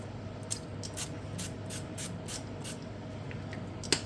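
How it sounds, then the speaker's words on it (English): Rapeseed oil cooking spray pumped in a quick series of about ten short hissing sprays into a pan, each burst crisp and close over a steady kitchen hum. "I'm going to go in with a few sprays of the Frylight."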